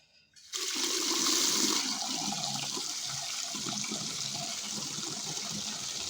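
Hot water runs from a tap into a sink with a sudden start, then a steady, close rushing gush that continues without break and has no voices over it.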